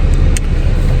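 A car driving along the road, a loud, steady close engine rumble with road noise and no talk over it.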